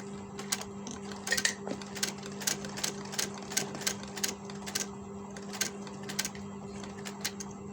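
Sewing machine stitching the collar placket of a men's kurta, running in quick bursts of rapid needle clatter separated by short pauses, over a steady motor hum, close and fairly loud.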